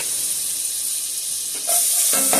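Finely sliced onion sizzling in melted butter, a steady close hiss that swells louder and brighter partway through as more hits the hot pan.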